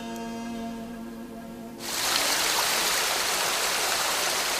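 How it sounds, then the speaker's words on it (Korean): After a soft, quiet tonal passage, a valley stream's flowing water comes in as a steady, full rushing hiss that continues evenly to the end. "계곡의 물은 오늘도 흐르고 있다"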